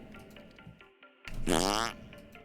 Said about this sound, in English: I heard a fart noise, but that was your soundboard.